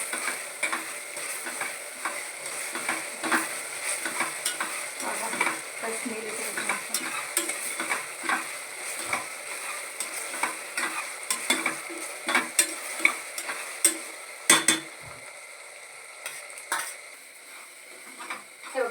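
Green masala for chicken biryani fries in a pan, with a continuous sizzle beneath frequent sharp scrapes and taps of a spoon stirring it, close and steady for a long stretch before thinning near the end.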